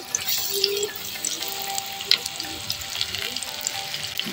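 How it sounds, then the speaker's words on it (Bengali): Eggplant fries in oil with a close, crackling sizzle, dotted with small pops, a louder clink, and faint drips or running water in the background, with no talking. "বেগুন লাল লাল করে ভাজা হয়ে গেছে"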